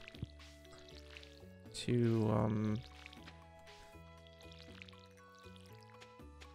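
Crops being watered in the farming game Starworld Farm, a short close burst of pouring, splashing water lasting about a second, set against soft background music while someone talks over it.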